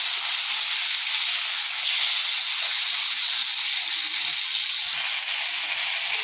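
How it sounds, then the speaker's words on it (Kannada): Drumsticks frying in a pan, heard as a steady, even hiss of sizzling oil that continues unbroken and fairly loud, with no voices. "ಫ್ರೈ ಮಾಡ್ಕೊಳ್ಳೋಣ"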